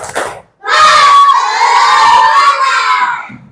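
Children in a classroom do the 'tepuk semangat' routine: a brief clap-like burst, then a loud, sustained group shout and cheer from many young voices close by that fades at the end.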